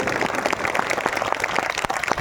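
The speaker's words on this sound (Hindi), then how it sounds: "तालियां कमजोर है, बहुत कमजोर है।" An audience at a Krishna Leela performance claps, giving a dense burst of many hands applauding close and steadily throughout, without speech.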